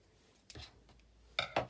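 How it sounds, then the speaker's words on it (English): Scissors snip the thread ends on a handmade bag: a few quick, faint snips in a quiet room. "just going to trim these ends"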